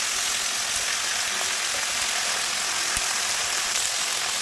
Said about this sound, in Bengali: পালং শাকগুলো দেওয়ার পর আরও 2-3 মিনিট একটু ভেজে নেব সব কিছু একসঙ্গে